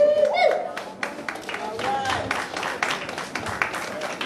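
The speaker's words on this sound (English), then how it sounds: "Let's give a big round of applause" Applause and clapping from an event audience greeting Richard Boyson, announced as the next clerk of the court, a dense patter of claps running steadily throughout with a host's voice and crowd noise mixed in.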